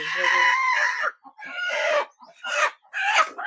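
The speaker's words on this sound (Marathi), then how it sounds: "इथं आता कोंबडी पण अंड्यावर बसवलेली आहे" A brooding hen sitting on eggs clucks close by in several drawn-out, murmuring bursts separated by short pauses, with no talk.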